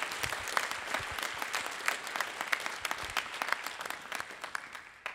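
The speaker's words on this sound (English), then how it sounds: "Let's give Jamie a huge round of applause" Moderate audience clapping at a spring jazz ensembles concert, honoring a student, with individual hand claps distinct in a steady, fairly soft ovation lasting several seconds.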